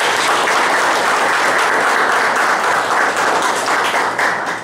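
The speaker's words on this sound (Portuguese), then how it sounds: "Eu gostaria que a gente desse uma salva de palmas para o camarada." Sustained applause from a crowd at a municipal PCdoB party conference in Jaguariúna, a dense, steady wash of clapping that stays loud for several seconds and tapers slightly at the end.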